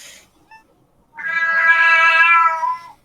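A cat gives one long, loud, drawn-out meow lasting nearly two seconds after a few faint, brief sounds, heard close and alone.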